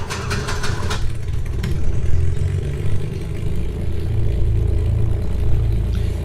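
Light aircraft piston engine starting after priming and boost pump: a few sharp clicks and a brief burst, then a loud, close engine catching and settling into a steady, rumbling idle.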